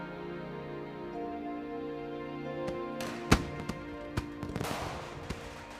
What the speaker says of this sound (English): When Chinese New Year comes, people set off firecrackers to welcome the spring and pray for good fortune.